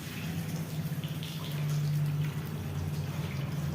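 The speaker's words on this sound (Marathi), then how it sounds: "नळ आलेले आहे मित्रांनो. मी आता पाणी भरत आहे" A household tap runs while water is collected at home, a steady gushing, splashing flow with a low humming tone beneath it, continuous and close.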